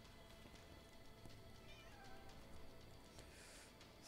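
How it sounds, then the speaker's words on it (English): An excited pet cat, a female, meows faintly a few times against a low background hum, with no talk over it. "that would be my cat commentating"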